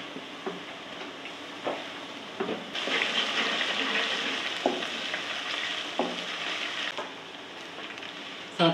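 Garlic ginger paste sizzling with onions in hot ghee for haleem, a steady loud hiss and crackle broken by occasional scrapes and stirring knocks of a spoon in the pot.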